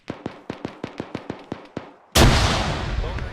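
A frag grenade blast in the military shooter ArmA 3: a loud, sudden broadband explosion with a long roaring tail, preceded by a steady series of about ten sharp, evenly spaced gunshots.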